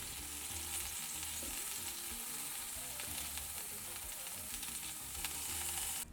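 Shrimp frying in a pan give off a steady, dense sizzle that holds at an even level throughout, close and continuous with no talk.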